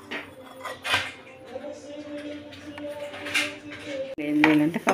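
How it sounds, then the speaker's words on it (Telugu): Crushed garlic going into hot oil in a pan for a bitter gourd fry, giving a close clatter of utensil on metal and soft sizzle, with a louder scrape and clunk near the end. "వేడెక్కిన తర్వాత వెల్లుల్లిపాయలు కచ్చబచ్చ దంచుకున్నానండి. ఒక 10 వెల్లుల్లిపాయల వరకు దీనిలో వేసుకుందాం."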